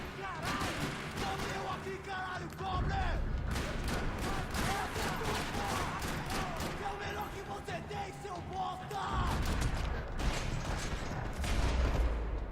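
Gunshots aimed at a vehicle's tires in Max Payne 3 on Xbox 360 crackle in a continuous, busy fusillade mixed with voices and game action, with a few heavier low thumps.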